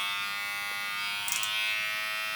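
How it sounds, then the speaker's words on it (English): BaBylissPRO Compact LoPRO hair clipper switched on, a steady high-pitched electric motor buzz with a rich band of harmonics, close and constant for a couple of seconds with a brief flutter partway through, no speech. "So that's how the clipper sounds right there."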